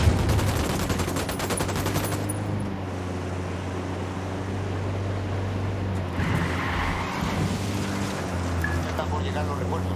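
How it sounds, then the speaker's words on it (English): Gunfire in the Ghost Recon game opens with a couple of seconds of dense, rapid automatic shooting, then settles into a continuous rumbling firefight with a droning engine-like undertone. "I'm opening fire."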